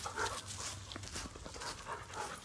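Dogs on a trail pant and whimper close by, a busy continuous mix of breathy panting and small yips with rustling, fairly faint overall.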